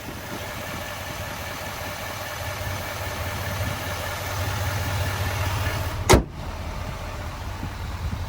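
A GMC Sierra 2500HD Denali's 6.6 liter Duramax diesel idles with a steady low rumble, interrupted by one sharp, brief clunk near the end.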